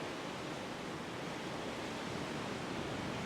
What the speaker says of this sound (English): the sounds of the waves in the background